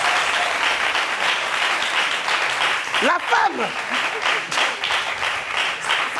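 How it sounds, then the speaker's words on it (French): Studio audience applause at a French television show, a dense steady wash of clapping lasting throughout, with a presenter's voice briefly calling out over it. "On applaudit la femme!"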